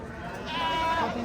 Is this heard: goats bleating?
yes